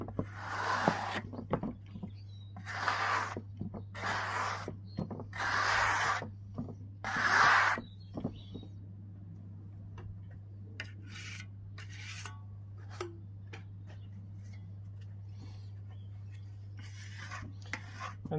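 A steel trowel scrapes excess tadelakt plaster from a surface in several short, rasping strokes, then lighter, quicker scrapes follow over a steady low hum, close up and without talk.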